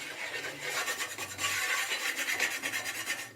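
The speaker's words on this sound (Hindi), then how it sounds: "गर्म तवे पर इस तरह से रगड़ेंगे" A burnt clay lamp is rubbed back and forth against a hot tawa to clean it, giving a steady, close gritty rasping scrape that continues without pause and with no talking.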